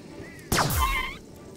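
A single zapping laser-gun shot in the video game Starbound, a sharp burst with a falling sweep and a brief electronic warble trailing after it, followed by the start of another shot.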